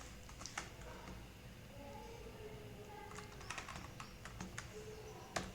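Faint computer keyboard typing while writing Python code, sparse light key clicks over a steady background hiss, with a denser cluster of keystrokes toward the end.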